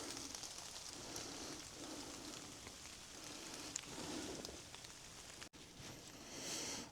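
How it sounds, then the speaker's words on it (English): Steady rain falls on an open fell, a soft, even hiss that holds faintly and continuously throughout with no other clear sounds. "The rain has calmed down a bit."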